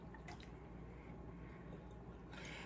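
Thick liquid mixture squishes and drips as it is poured over chicken, soft and close, with faint wet splatters over a low steady background hum.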